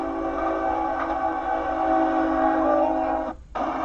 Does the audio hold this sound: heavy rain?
no